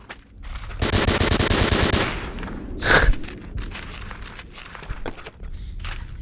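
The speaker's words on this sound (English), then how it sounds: "I got an assault rifle." Rapid bursts of assault rifle fire in a video game, a dense automatic rattle lasting about a second followed by one sharp, louder shot and scattered quieter thuds.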